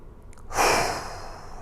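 A single long, close exhale during a quick home golf fitness stretch for the outer left thigh. It swells quickly and then fades into a soft, airy tail.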